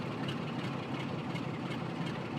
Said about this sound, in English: can just hear the Class 47 ticking over.